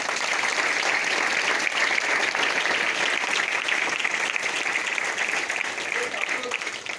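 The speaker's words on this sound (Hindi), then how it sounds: "तालियां विवेक के लिए" Audience at a Kargil Vijay Diwas commemoration applauds a speaker, a loud continuous wall of clapping that holds steady for several seconds and eases slightly at the end.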